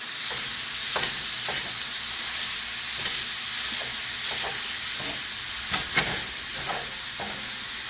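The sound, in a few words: stirring sizzling taco meat in a pan with a mix and chop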